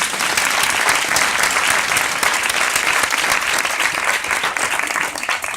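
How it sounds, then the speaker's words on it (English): Audience applause at a coaching training event, a steady, dense wash of many hands clapping that continues unbroken for several seconds. "Can we give him a round of applause?"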